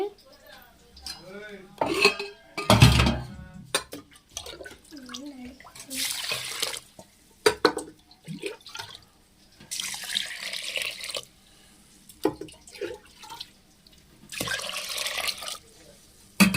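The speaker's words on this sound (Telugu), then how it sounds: "వీటినైతే ఇప్పుడు నేను నానబెట్టుకుంటున్నాను వాటర్ పోసి" Water runs from a tap into a bowl of basmati rice in intermittent bursts of splashing, mixed with clinks of utensils and a vessel, while someone speaks between pours.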